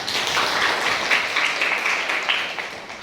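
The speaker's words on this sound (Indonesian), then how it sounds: "tepuk tangan untuk rekan kita, Laila." A group applauds a presenter at a discussion session, a dense burst of clapping lasting a few seconds at fairly close range with no talk.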